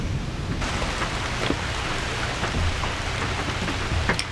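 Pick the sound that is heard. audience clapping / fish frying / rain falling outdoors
rain falling outdoors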